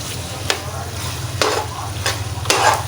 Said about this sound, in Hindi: इसके साथ ही हमने अदरक डाल देना है, ठीक है। इसको थोड़ी देर भून लेना है,